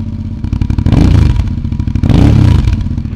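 Suzuki DL650 V-Strom motorcycle with a Delkevic exhaust, baffle fitted, idling and blipped close by, a loud rumbling burble with two sharp rev surges.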